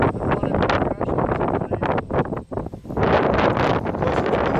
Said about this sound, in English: Plus, it's really windy out here.